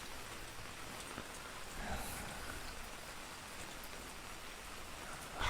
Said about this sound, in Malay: kerana sini sedang hujan.